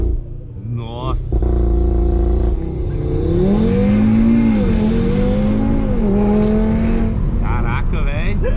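An Audi TT fitted with nitrous launches hard, its engine revving loudly with a rising, sweeping pitch that is close and sustained over several seconds. A voice briefly cuts in near the start.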